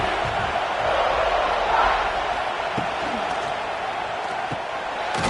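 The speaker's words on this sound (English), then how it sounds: "the crowd coming to life here, trying to help this defense down in the red zone" Video game stadium crowd at a Clemson at South Carolina rivalry college football matchup, a steady broad roar swelling slightly then holding, continuous and loud throughout with no distinct claps.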